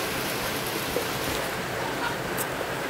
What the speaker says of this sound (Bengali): দেখো কি বৃষ্টি পড়ছে